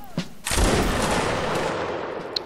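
A reenactment regiment's front rank fires a musket volley: one sudden loud crack that rolls into a long, dense decaying roar and echo, with faint voices in the background.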